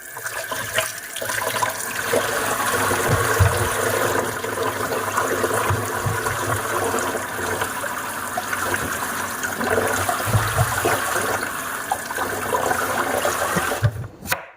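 Eggplants are rinsed by hand under a running kitchen tap. Water splashes steadily and fairly loud into a sink for the whole stretch, with soft handling sounds and no speech.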